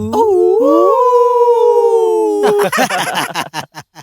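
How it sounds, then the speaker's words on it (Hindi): Dogs in a village at night let out a long, loud, wavering howl that gives way to a burst of sharp, rapid barks, which trail off into a few isolated yelps. "कुत्ते लोग उनको देखकर जोर जोर से भौंक रहे हैं"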